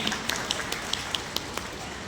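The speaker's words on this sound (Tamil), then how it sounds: "எல்லோரும் நன்றாக கரகோஷம் எழுப்பலாமே." Scattered applause from an audience at a Tamil award ceremony, a thin patter of claps with sharper individual hand strikes, fairly distant and quiet.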